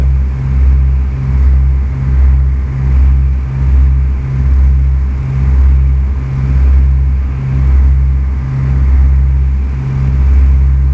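Steady single-engine propeller aircraft drone at 2100 rpm in Flight Simulator 2004, a loud continuous low hum that pulses gently in a slow regular rhythm throughout, with no talk.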